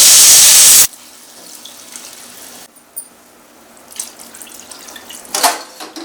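Water gushes loudly into a pot of rice for soya chunks biryani for under a second, then stops, leaving quiet with a few faint clinks and small movements.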